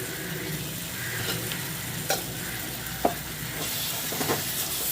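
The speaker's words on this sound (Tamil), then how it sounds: "அடிப்பிடிக்காமல் கலந்து விடுங்க" Sweet corn masala with a little jaggery sautés in a pan, with a steady close sizzle and a few distinct spatula scrapes and knocks as it is stirred.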